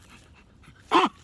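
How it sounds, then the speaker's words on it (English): A small Chihuahua, nearly toothless, lets out a single short bark or yip, close and loud, after a quiet stretch indoors on a hot day. "You don't need to bark, Mr. Loose Teeth"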